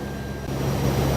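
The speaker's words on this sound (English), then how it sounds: "That was takeoff." A brief stretch of airplane takeoff heard from the cabin, a steady loud roar of engines and airflow that swells slightly, with no talk.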